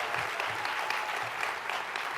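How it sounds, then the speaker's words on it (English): Steady crowd applause at an NJEA 2021 convention welcoming the vice president, a dense continuous wash of clapping with no break across the short stretch. "so let's give Steve Beatty a big round of applause"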